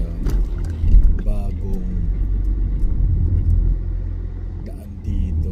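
Low, steady rumble of heavy road traffic in Patindig, close engine drone with a few brief louder swells, and voices talking over it at moments.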